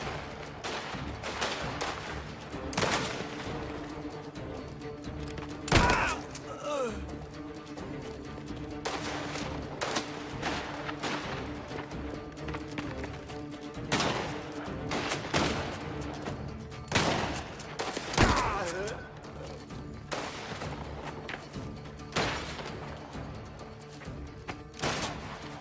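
Heavy close gunfire in Mafia: The Old Country, including shotgun blasts, with loud sharp shots repeating irregularly throughout amid continuous combat noise.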